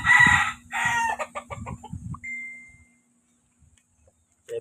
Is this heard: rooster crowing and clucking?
yes